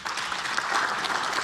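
Members of the National Assembly clapping from their seats during a floor leader's address, a continuous, fairly even burst of applause from many hands with no voice on top.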